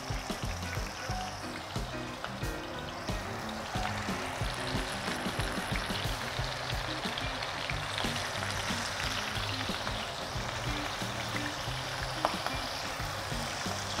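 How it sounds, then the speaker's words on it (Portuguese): A cut side sears face-down in a hot frying pan, giving a steady, close, hissing sizzle with faint crackles that continues evenly throughout, with no talking. "Sempre o lado do corte primeiro na frigideira"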